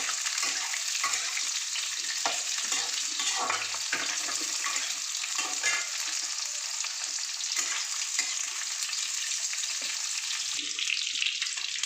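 Drumsticks, potato and onion fry in a pan for a Bengali lote fish chorchori, a steady, close sizzle with crackling bursts and occasional stirring scrapes throughout.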